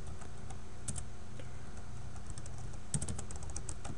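Rapid, uneven clicking of someone typing on a computer keyboard at close range, keystrokes coming in steady bursts over a low constant hum, with no talking.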